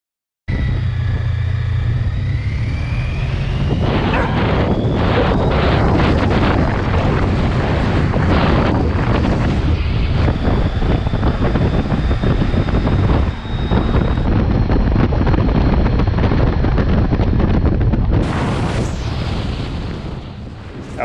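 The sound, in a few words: heavy wind on a motorcycle ride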